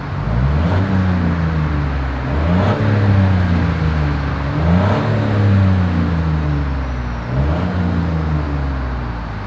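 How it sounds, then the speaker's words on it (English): Exhaust of a 2021 Chevrolet Trailblazer small crossover, idling and then revved several times, each rev a rising and falling engine note over a steady low drone, loud and close with no talking. "As always, here is that exhaust clip."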